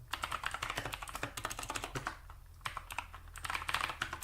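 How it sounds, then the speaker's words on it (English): Rapid, steady clatter of keys as a command is typed on a computer keyboard during an Arch Linux install, close and clear with brief pauses between bursts. "So we're going to type in sort rate"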